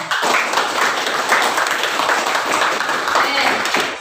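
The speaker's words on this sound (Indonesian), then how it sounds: "sekarang kita beri tepuk tangan untuk kita semua yang ada pada kelas ini" A classroom of students applauding their fellow classmates, a dense continuous wash of clapping from many hands lasting several seconds, close and steady, with some voices mixed in.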